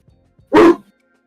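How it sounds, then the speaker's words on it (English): A single loud, close dog bark rings out alone, with faint soft sounds just before it and quiet after. "Can you hear the dogs barking?"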